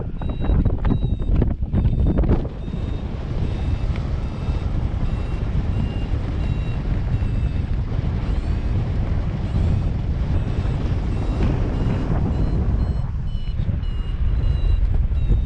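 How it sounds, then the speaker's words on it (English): Paragliding variometer beeping during a thermal climb, with faint high electronic tones repeating under a loud, steady roar of wind across the microphone. "When your vario speeds up, that's where you got to tighten up"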